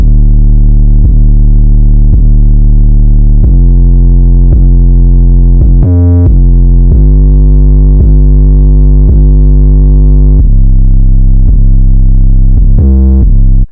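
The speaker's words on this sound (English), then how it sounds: "First sound I added again was this 808." A trap 808 bass drum plays long, booming, distorted low notes that sustain and shift in pitch, very loud and continuous, with a couple of short glitchy stutters and no talking.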